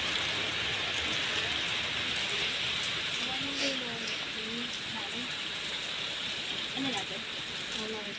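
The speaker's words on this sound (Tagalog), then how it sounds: "Dahil nga umulan." Rain falls steadily in a market street in Lucban, Quezon, a dense even hiss with scattered drops, while faint voices and chatter sit underneath.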